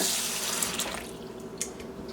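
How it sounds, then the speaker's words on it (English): Water runs steadily from a kitchen tap into a cooking pot holding frozen chicken breasts, a continuous close hiss and splash with a few brighter spatters and no talking. "I'm going to fill the pot with some water."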